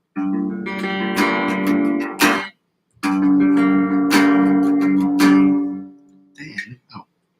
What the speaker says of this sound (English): Now the bottom 4-string chords, it sounds something like this right here.